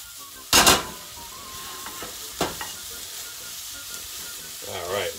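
Fajita-style peppers and onions sizzle in a hot pan and get stirred, opening with a loud burst, then a steady hiss with occasional scraping and a second flare near the end.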